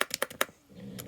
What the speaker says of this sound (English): but then as soon as you start typing